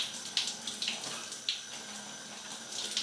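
Shower water running steadily indoors, a soft continuous hiss with a few brief splashes and clicks on top, fairly quiet and with no talk.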